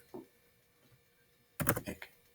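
A short flurry of computer keyboard typing, several quick close keystrokes in a dense burst after a mostly quiet stretch with one soft tap near the start.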